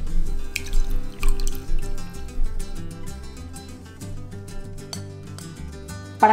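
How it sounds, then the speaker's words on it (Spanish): Rinsed rice drains in a strainer, with scattered drips and small trickles of water falling close by, soft and irregular. "Y finalmente, lo dejamos escurrir para que se seque."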